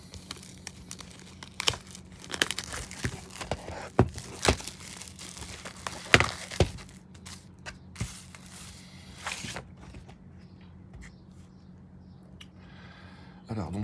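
Crinkling and tearing of plastic and cardboard packaging as an Inland Empire Blu-ray is unwrapped, a close, busy run of rustles and rips for about ten seconds before it quiets, with a faint steady hum underneath.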